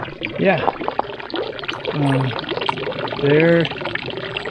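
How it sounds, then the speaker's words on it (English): Water pours steadily into a cattle tank at a spring in a wilderness area, a continuous splashing rush under a person talking over it. "It's fun that it's pouring like that."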